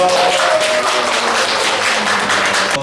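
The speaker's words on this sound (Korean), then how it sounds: "존경하는 의미에서 우리 신부님을 환영의 박수로 맞이하겠습니다" An audience at a Catholic lay gathering applauds to welcome a priest, loud sustained clapping from many hands in an indoor hall, continuous and even throughout.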